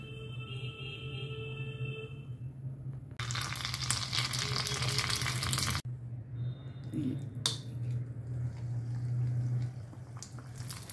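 Ready-made fuchka puris go into hot oil in a small wok: a steady oily bubbling, then a loud rushing sizzle for a few seconds, easing back to quieter crackling with occasional light clinks.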